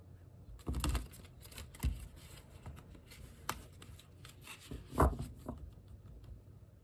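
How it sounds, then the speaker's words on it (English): Tarot cards are shuffled in hand, a few soft riffling and tapping bursts, close and quiet against a hushed room. "One more shuffle."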